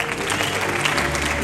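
A congregation at a Rwandan gospel worship gathering claps in a short burst, the dense applause sitting over sustained, steady musical tones.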